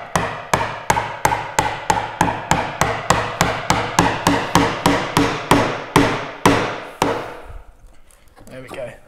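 A hand chisel is struck repeatedly with a mallet to cut a through mortice in wood, about twenty sharp, evenly spaced close blows, then quieter scraping.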